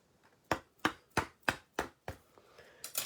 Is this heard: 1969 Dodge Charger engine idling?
no